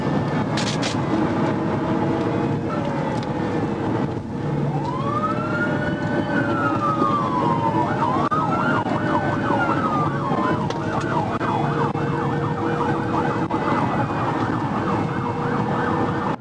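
Police car siren in an Arkansas State Police high-speed chase wails loud and close, rising and sweeping through repeated wail and yelp cycles over constant road and engine roar.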